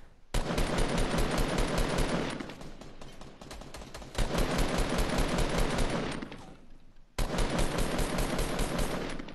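Rapid gunfire in the video game Fortnite, three long, loud, close bursts of rattling shots separated by short gaps, with no talking.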